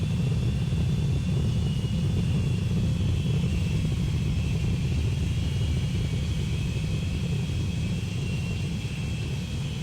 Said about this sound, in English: Now comes an Air France flight